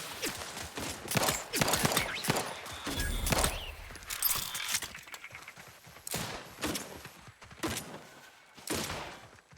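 Bursts of gunfire from the video game The Outer Worlds 2, a rapid fusillade of loud overlapping shots in repeated volleys across the clip with thuds between them.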